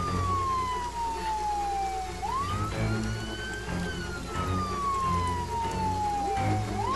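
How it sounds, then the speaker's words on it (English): A wailing police siren in the video game Friday the 13th sweeps down and back up in long glides, loud and continuous over a steady rumbling background. "I hear the sirens!"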